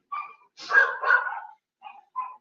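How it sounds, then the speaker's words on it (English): Several dogs bark inside a house in a few short yapping bursts that carry from another room, with a brief whimpering yip at the end. "If you guys can hear those dogs, I apologize."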